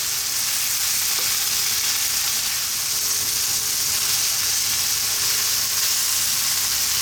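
Mushrooms frying in a pan for a mushroom cream pasta, seasoned with salt and pepper, give off a steady, loud, close sizzle that runs without a break.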